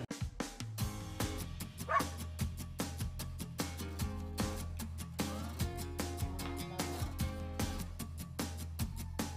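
Therapy dogs visiting a care facility for people with disabilities let out a rapid run of sharp, repeated barks and yips, quite near and loud, and a few whimpers break in between them.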